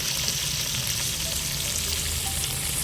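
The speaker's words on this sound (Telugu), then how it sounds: "మనం కట్ చేసి పెట్టుకున్న బజ్జీ మిర్చి వేసేస్తున్నాం." Bajji chillies sizzle and fry steadily in hot oil in a pan, a continuous close crackling hiss with faint stirring, no voices.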